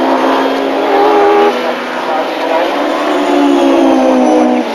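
A Mercedes 190E Evo-2 DTM race car driven by Klaus Ludwig on a qualifying lap of the Nürburgring Nordschleife, its engine roaring loud and steady from onboard with a sustained high-revving drone.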